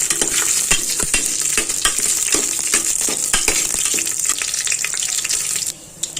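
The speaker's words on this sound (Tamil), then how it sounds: "4 கிராம்பு, ஒரு பிரியாணி இலை, ஒரு பட்டை போட்டாச்சு. நல்லா பொரியட்டும்." Whole cloves, a bay leaf and a cinnamon stick sizzle steadily in hot oil, a loud continuous crackle with scattered pops and light stirring clicks, dropping off abruptly near the end.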